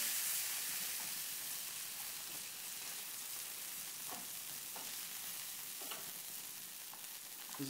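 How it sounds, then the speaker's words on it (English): Seared filet mignon sizzles in a hot pan alongside lobster tail, a steady hiss of frying fat with soft crackles and a few brief stirring or scraping touches, fairly quiet and with no talk. "I'm going to put them into the same pan as the lobster."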